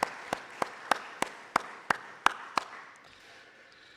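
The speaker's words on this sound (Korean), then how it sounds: "박수하겠습니다." Sparse, evenly spaced claps ring out in a church, about eight sharp hand claps in a slow steady beat, fairly close, fading into reverberant room noise at the end.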